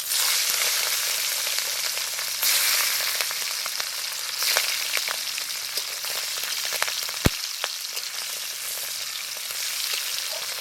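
Boiled oysters frying in hot mustard oil give a steady, dense sizzle that carries through the whole clip, with occasional stirring scrapes and crackles and no talking.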